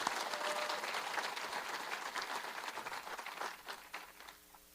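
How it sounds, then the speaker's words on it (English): An audience applauds sponsors at a charity event, the clapping dense and steady from the start before thinning and fading out near the end. "So how about a round of applause?"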